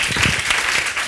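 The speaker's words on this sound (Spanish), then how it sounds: "Un aplauso para Laura." A short burst of dense audience applause, loud and close, filling a brief moment during a public talk with no voices on top.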